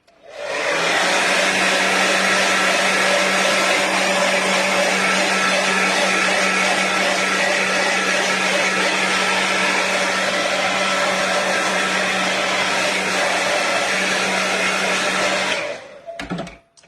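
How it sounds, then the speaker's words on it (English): A heat tool blows a steady, loud, whirring stream of air over wet paint on a palette, running continuously for about fifteen seconds before cutting off abruptly near the end. "I'll just give it a little burst of heat"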